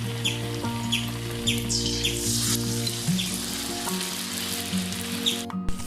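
Kerala-style banana fritters (pazham pori) frying in hot oil, with a loud, continuous close-up sizzle and bubbling. Birds chirp in the background, and a sharp clatter comes near the end.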